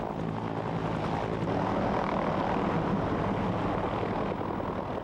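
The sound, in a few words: AH-1 Cobra attack helicopter flying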